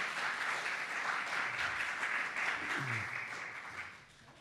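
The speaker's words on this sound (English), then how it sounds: "Can we give a round of applause?" An audience applauds after a live demonstration by a sound artist at a lecture and performance, a steady wash of clapping that fades slightly toward the end, with a brief low murmur of voices.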